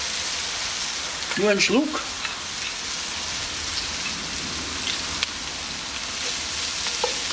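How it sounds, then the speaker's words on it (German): Red wine (a Blaufränkisch) sizzling as it hits a hot Dutch oven to deglaze a pork roast, a steady hiss with a brief bubbling burst near the start, a voice speaking briefly over it. "Jetzt kommt dann unser Rotwein ins Spiel, damit wir die Röstaromen vom Boden wegkriegen."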